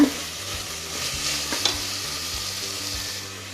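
Ginger garlic paste frying in oil with softened tomatoes for tomato bath: a steady, close sizzle with a few soft stirring scrapes, no voices.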